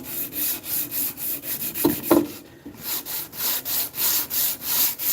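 A wooden cane being sanded with 100 grit sandpaper gives steady, rhythmic back-and-forth rasping strokes, close and even, with a couple of sharper scrapes partway through.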